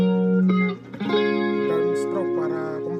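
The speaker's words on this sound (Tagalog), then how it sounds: "Down stroke para kumpleto yung tunog ng chords." Down-strummed chord on a guitar run through effects with distortion and chorus, a full sustained chord ringing out with a few strokes, and a voice talking over it.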